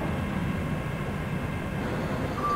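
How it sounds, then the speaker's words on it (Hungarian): A passenger train arriving at a station in the MSTS/Open Rails train simulator, a continuous loud rumbling roll of wheels and carriages close by, steady throughout with a brief high squeal near the end. "személyvonat érkezik Szeghalom felől az első vágányra"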